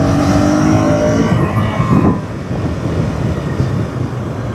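A bus passes on a road in a roaring engine sweep, loud and near at first, then fading to a lower rumble of traffic.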